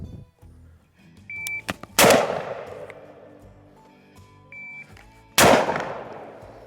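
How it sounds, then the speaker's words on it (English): Shells are loaded into the tube of a Mossberg 940 Pro Tactical shotgun, heard as close mechanical clicks and scrapes broken by two loud, sharp metallic clacks a few seconds apart. "when I'm loading shells in there"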